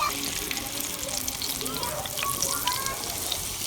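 Cauliflower pieces frying in a pan of hot oil give a steady, close sizzle with faint crackles, continuous throughout without talk.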